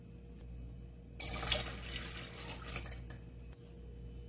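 Milk being poured into a dessert mixture for a layered sweet dish, a steady liquid splashing stream starting abruptly and running for about two seconds over a low kitchen hum, then easing off.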